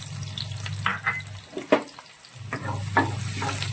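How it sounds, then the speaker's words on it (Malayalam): Chopped garlic and ginger frying in hot oil in a pan for a pickle, a close sizzle with uneven bursts and scraping stirs, briefly dipping quieter midway before the crackle returns. "ഇതിനെ നന്നായിട്ട് നമുക്കൊന്ന് മൂപ്പിച്ചെടുക്കാം"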